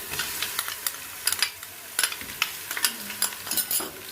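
Ginger garlic paste fries with browned onions in a pan for an aloo gosht curry, giving a soft continuous sizzle broken by repeated sharp scrapes and clinks of a spoon stirring against the metal.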